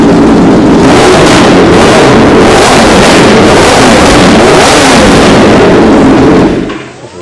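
Kawasaki sport motorcycle with a titanium exhaust revving hard and loud for several seconds, a dense roaring engine note with rhythmic surges that cuts off abruptly near the end.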